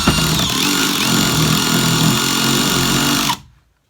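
Brushless percussion drill-driver of about 80 Nm running at speed 1 with clutch setting 1, a loud steady motor whir with rattling impact for over three seconds, then it cuts off abruptly to silence.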